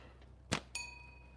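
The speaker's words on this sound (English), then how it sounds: "See if we can ring the bell with this thing." A slingshot shot hitting a small metal bell target: a sharp snap is followed a moment later by a clear ringing clang that hangs and slowly fades at moderate distance in a quiet outdoor setting.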